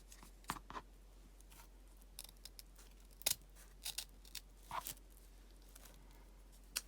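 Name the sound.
scissors cutting ribbon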